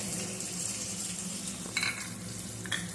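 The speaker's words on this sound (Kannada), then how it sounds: "ಮೆಣಸನ್ನು ಹುರ್ಕೊಳ್ಳೋಣ." Chilies roast in a hot pan, giving a steady close sizzle and crackle throughout, with a couple of brief stirring scrapes against the pan.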